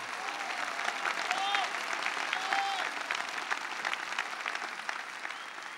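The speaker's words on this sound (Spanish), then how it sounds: "un aplauso a la Virgen de Luján" Large crowd at a papal general audience applauding for the Virgin of Luján, a dense, sustained roar of clapping heard at a distance, with a voice and faint whistles rising through it.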